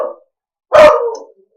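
A single loud, close dog bark rises into a short drawn-out howl, preceded by a faint brief yelp and followed by silence.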